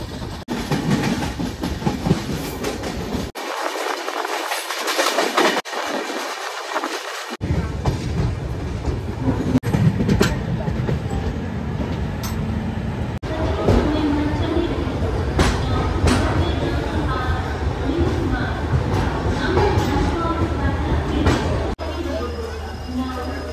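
A train on the journey from Kolkata toward Darjeeling runs with a loud, steady rumble and rhythmic clatter of wheels, the sound briefly muffled and changing as it rolls along, with voices talking over it at times.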